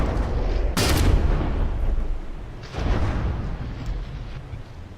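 Naval cannon broadsides and explosions from the warship game From The Depths, with frigates Manstein and Reiterpallasch trading fire: a loud booming blast near one second, a second heavy boom near three seconds, and rumbling gunfire continuing throughout.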